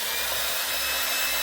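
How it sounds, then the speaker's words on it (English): A power drill bores a 3/8-inch hole through a plastic yogurt container on low speed, making a loud, steady whirring grind that continues unbroken from start to finish. "I'm going to just drill the 3/8 hole carefully."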